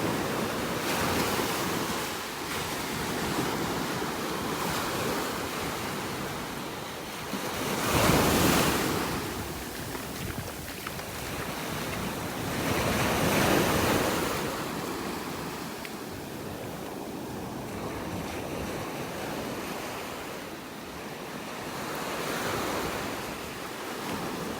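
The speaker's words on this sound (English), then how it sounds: "the waves aren't nearly as big as they were" Gentle Gulf surf rolls onto a beach in North Naples, Florida, a continuous wash with a few swelling breakers, mixed with wind buffeting the microphone and no speech.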